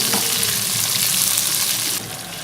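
Tomatoes and slit green chillies being stirred into a fish karahi, giving a steady loud sizzle and frying crackle with scraping stir sounds throughout, no talk.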